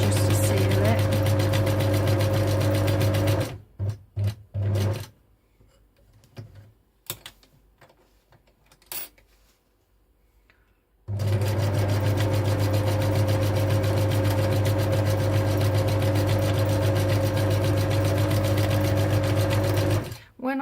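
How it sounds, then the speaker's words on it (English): A domestic sewing machine runs a short back stitch to seal a seam on fabric, a steady loud motor whir lasting several seconds, stopping briefly with scattered handling clicks, then running again at length. "I'm going to do a little back stitch just to seal it."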